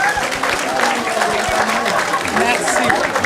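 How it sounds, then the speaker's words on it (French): An audience claps steadily and fairly loudly, with a thick, continuous patter of many hands throughout and a little crowd noise mixed in. "si vous les applaudir, s'il vous plaît"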